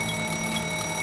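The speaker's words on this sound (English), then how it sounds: "an alarm activates inside the driver's cab" Overspeed warning alarm sounding inside a train driver's cab as a rapid train nears a station, a steady electronic tone held continuously, loud and close against the cab's background rumble.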